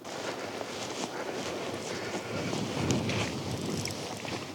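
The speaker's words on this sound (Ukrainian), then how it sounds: "боковий вітер зліва направо" Steady crosswind blowing across an open winter fishing spot by reeds, a continuous broadband rush that swells slightly midway, with no talking.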